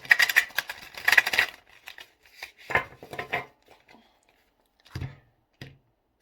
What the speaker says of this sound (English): We're going to do a shuffle, cut, and a draw.